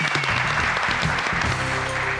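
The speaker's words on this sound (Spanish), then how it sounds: "Un aplauso para Iván." Audience applause for a quiz contestant at a Cuban game-show style competition, steady dense clapping throughout with a bit of crowd murmur underneath.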